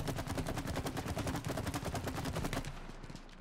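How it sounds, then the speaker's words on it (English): Rapid, steady bursts of automatic gunfire from the co-op video game It Takes Two rattle on for about two and a half seconds, loud and continuous, then cut off abruptly into a quieter tail. "I think you need to shoot the thing above you."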